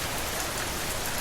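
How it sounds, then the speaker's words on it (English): Steady rain falling and pattering on the ground, a dense, even hiss with no breaks, thunder or voices throughout. "Picture the rain falling upon the earth, nourishing the flowers and filling the streams once more"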